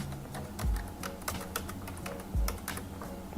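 Typing on a computer keyboard while setting up a Grafana managed alert, a quick, uneven run of light key clicks close to the mic, with a couple of soft low thumps mixed in.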